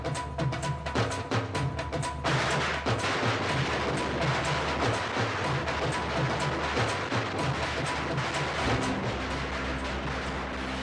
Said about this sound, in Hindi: पटाखे की आवाज सुनी तुम्हें?